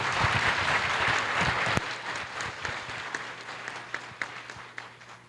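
Intense applause from an audience at a university economics panel discussion, a thick wash of clapping that thins after a sharp accent, leaving scattered individual claps.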